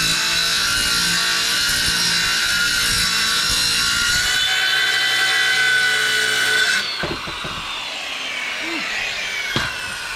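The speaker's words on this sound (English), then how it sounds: "That is a very blunt skill saw blade." A blunt circular skill saw blade grinds through wood during a property renovation, a loud, continuous rasping whine that runs for several seconds before the motor cuts off and winds down, leaving a quieter tail.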